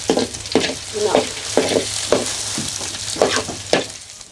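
Tomatoes stir-fried in a pan at a rural Thai home kitchen after garlic, shallots and chilies, giving a steady loud sizzle broken by repeated scraping strokes of the spatula, with no voices.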